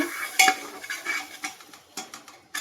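A spoon stirs butter into chicken stew in a pot, making a quick run of light metallic clinks and scrapes against the pot at an irregular rhythm, close and fairly quiet.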